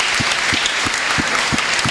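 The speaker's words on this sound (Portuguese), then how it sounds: "Uma salva de palmas pro povo do Icaraí." Applause for the people of Icaraí at a church anniversary celebration, a steady wash of clapping with soft low thumps recurring roughly every third of a second.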